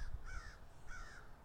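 A crow caws twice in a morning outdoor setting in Lutz, Florida, two drawn-out harsh calls spaced about half a second apart, fairly clear over quiet background.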